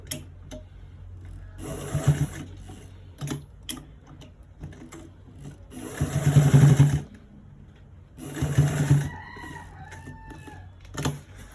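A sewing machine runs in several bursts of rapid mechanical stitching, stopping and starting, with a rooster crowing faintly in the background.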